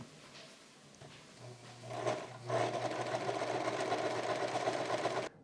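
Domestic sewing machine running a steady stitch along button-up shirt fabric, starting briefly then whirring continuously for several seconds at close range before stopping abruptly.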